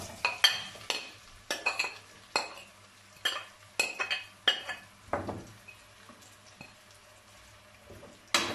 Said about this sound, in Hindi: अब हम इसी ऑयल में प्याज शामिल करेंगे।